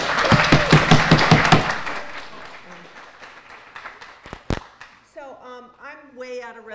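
Applause from a conference audience at a global health innovation session, dense clapping that fades over about two seconds, then a few scattered thumps before a speaker's voice resumes.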